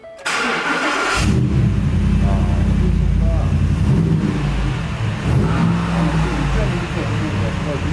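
A Ford F-150 Raptor's 6.1-liter engine cranks and catches, then settles into a deep, loud idle with a few rising revs, close by, with a voice speaking briefly under the engine noise.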